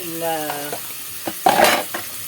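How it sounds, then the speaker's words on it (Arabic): Cubed chicken breast is stirred in a pan while cooking for an Egyptian feast, with a soft sizzle under scraping, stirring clatter. A short tonal hum comes early, and sharper utensil knocks follow later. "ندي بقى تشويحه كده بسم الله اهو. غير بس لونها كده"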